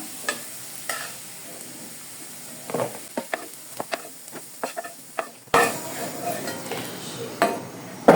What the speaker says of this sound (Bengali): এখন আমি ফুলকপিগুলোকে হালকা করে একটু ভেজে নিব।